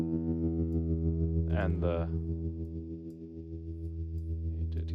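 Electric guitar through a Kmise tremolo pedal with hall reverb, a sustained chord pulsing steadily in volume and decaying into a washy tail, with a short spoken phrase in the middle.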